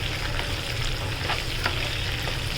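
Red chillies sautéing in hot oil as a tempering for sweet, sour and spicy tomato pickle, giving a steady, dense sizzle that runs unbroken from start to end.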